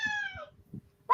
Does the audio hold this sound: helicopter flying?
no